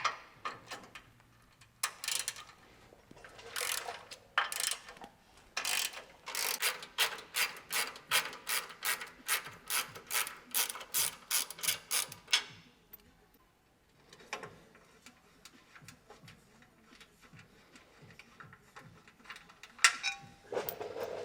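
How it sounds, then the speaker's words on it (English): A hand ratchet loosens 12mm bolts on a Toyota Tacoma catalytic converter shield bracket, giving long runs of quick, even clicking strokes close by, with pauses between bolts. "So you're gonna have 2 12mm bolts here and 2 12mm bolts here. So go ahead and take those off"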